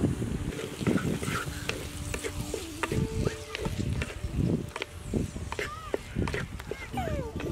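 Onions and tomatoes sauté in oil in a pan for a village-style dried-fish curry, making a continuous close sizzle with stirring scrapes and clatters while someone talks over it.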